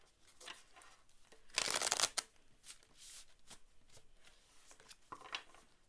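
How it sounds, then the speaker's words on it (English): Tarot cards riffle and flick in quick rustling bursts, one louder shuffle in the middle, close and crisp in a quiet room. "I've been struggling with my shuffles lately."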